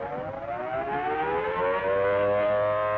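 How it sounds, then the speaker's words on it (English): An air raid civil defense siren wails loud and steady, its rising tone sustained throughout with layered harmonics and no voices over it. "That's the signal for an air raid alert. We must stand by for the sirens."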